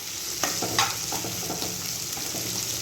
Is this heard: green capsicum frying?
yes